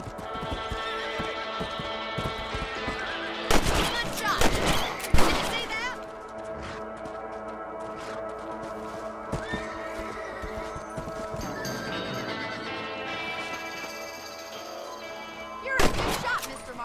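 In the Red Dead Redemption video game, horses whinny and their hooves clatter over a continuous backdrop of western music and game sound, with a few sharp bursts that could be gunfire and talk heard at points.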